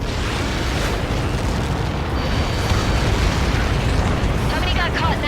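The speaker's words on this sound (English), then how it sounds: "How many got caught in that explosion?" A Helios missile impact explosion in the video game Ace Combat 7 rolls out as a loud, sustained roaring blast with dense low rumble, and a voice cuts in briefly near the end.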